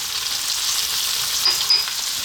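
Garlic ginger paste sizzles steadily in a hot pan with green beans for a coconut curry, a dense continuous frying hiss with a couple of brief sharper crackles near the end, no talking.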